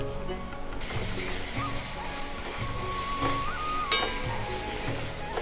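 Ginger paste hits a hot pan while a Bengali squash posto dish is cooked, and a loud, continuous sizzling hiss starts abruptly and holds steady, close up, with faint tonal sounds in the background.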